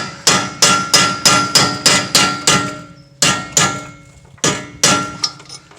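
Sharp metallic hammer blows drive a center punch against the front wheel bearing of a BMW 325i, landing in a fast steady series of about ten strikes, then a pause and a few more hits, loud and close.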